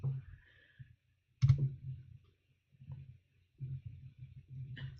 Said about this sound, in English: Once you click on the download button